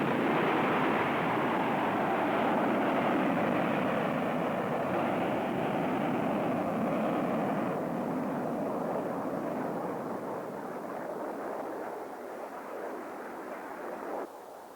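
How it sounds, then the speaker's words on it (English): Roaring rocket booster launching a manned airplane from a blast-proof Hardsite base, a loud continuous broadband roar that holds steady and then gradually fades as the aircraft moves away. "Here is a manned airplane shot out of an atomic blast-proof base, ready for combat."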